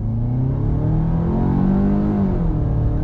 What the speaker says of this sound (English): Let's go ahead and go on throttle in normal mode, see how that goes.